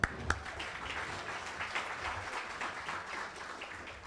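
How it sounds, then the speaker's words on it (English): An audience at a Signal Hill State of the City event applauds, a faint, distant, steady patter of clapping with a couple of sharper claps near the start. "One more round of applause."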